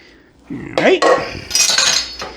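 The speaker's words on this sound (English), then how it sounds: "with our offset spatula, just start to slowly work it to the ends" An offset spatula spreads a chocolate lasagna layer in a dish, making a few close metallic clinks and scrapes against the dish in short, uneven strokes.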